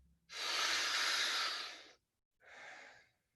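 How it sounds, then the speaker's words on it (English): Two deep breaths during a guided breathing exercise: a long, loud airy inhale-exhale of about a second and a half, a short pause, then a shorter, softer breath, close to the microphone with no talking. "We're gonna go 5 more breaths as a group."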